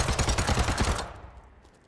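Rapid automatic bursts from an AK5C assault rifle in Battlebit Remastered, a loud close string of shots for about a second, then a fading tail of echo.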